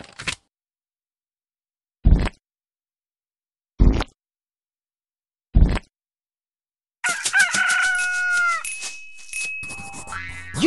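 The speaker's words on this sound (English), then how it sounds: "You found the chicken!" A children's Play-Doh animal-finding game plays its chicken sound effect: four short, evenly spaced clucks, then a loud, drawn-out rooster crow with a trailing tail, all close and without talk.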